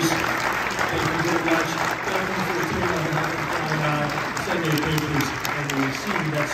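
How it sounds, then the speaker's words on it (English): An audience at a skeptics conference panel session applauds its panel of scholars, a steady, dense wash of clapping that holds for several seconds with voices mixed in underneath. "let's have a round of applause for our real skeptics and scholars"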